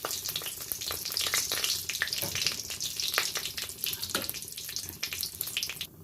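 Cumin seeds, a bay leaf and a dried red chilli sizzling in hot oil for a vegetarian cabbage dish, a steady close hiss and crackle throughout with no talk.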